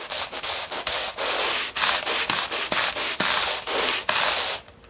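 A stiff brush scrubs a carpet spill stain in quick crisscross strokes, a steady run of rough rasping swipes close by with brief pauses between, no talking.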